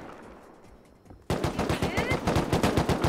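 Gunfire in the video game Rust: after a quieter stretch of background noise, a rapid burst of automatic shots erupts loud and close, each crack evenly spaced in a fast continuous rhythm until the end.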